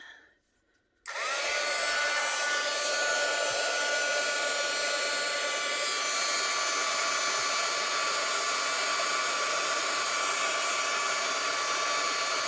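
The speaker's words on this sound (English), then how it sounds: "this may be a little loud with the heat tool" A loud, steady blowing whir of a heat gun shrinking plastic switches on after a second and runs continuously, close and unchanging, with no voices.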